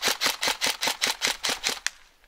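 Bolt BR-47 airsoft rifle firing a rapid automatic string of about ten even, crisp mechanical cracks, then a final shot and a quiet tail.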